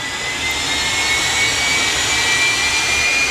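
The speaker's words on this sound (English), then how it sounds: "you can just about hear the turbine stud spin over, the igniter inside clicking away" A drag-racing jet dragster's turbine spins over steadily with a continuous whooshing whine, its igniter clicking inside, heard up close and fairly loud for the whole stretch with no talk.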